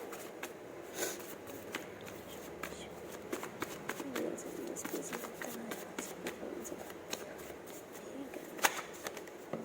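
Tarot cards shuffled by hand during a Hindi timeless tarot reading, a soft papery riffling with sharp repeated flicks and taps, close and fairly quiet against a faint room hum with no talking.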